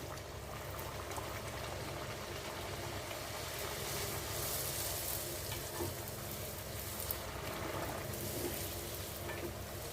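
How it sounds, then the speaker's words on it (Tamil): Puri fry in well-heated oil with a steady, dense sizzle and bubbling that holds at an even, moderate level throughout, with no voices. "எப்போவுமே பூரி போடும்போது எண்ணெய் நல்லா காயணுங்க அப்போ தான் பூரி வந்து நல்லா உப்பி மேலே வரும்"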